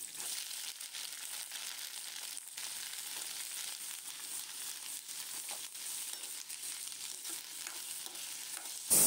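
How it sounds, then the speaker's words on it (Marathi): Vegetables with a garlic and chili tempering sizzling in hot oil, a steady faint crackling hiss with occasional stirring scrapes, close and continuous, ending in a sudden loud burst. "आता भाजी फोडणी देऊन दिली."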